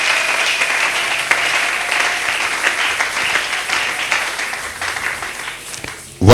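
Congregation cheering and applauding the Lord at a church gathering, a dense, steady wash of clapping and voices that holds throughout and ends with a sudden loud burst.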